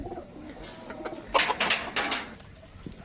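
A few soft pigeon calls and a short burst of fluttering wings close by, with quiet low cooing in between.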